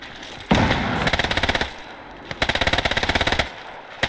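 Machine-gun fire raking a building in the WWII game Gates of Hell on the Eastern Front: two long, rapid bursts of closely spaced shots, loud and close, separated by a short pause with a single stray shot.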